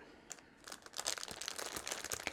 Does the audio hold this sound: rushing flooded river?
no